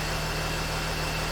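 A 2007 Dodge Sprinter van engine idles close by with a steady, even low hum and vibration, alone and unchanging through the short stretch.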